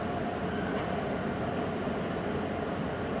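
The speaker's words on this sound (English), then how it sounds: "There goes the Northeast Regional." An Amtrak Northeast Regional train passes close by with a loud, steady rumbling roar of wheels and cars on the rails, continuous and unbroken throughout.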